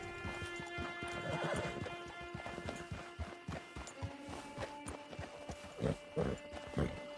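Horse riding in Red Dead Redemption Online, with irregular hoof clip-clops, snorts and short whinnies at close range over a quiet game background, the steps bunching into heavier bursts toward the end.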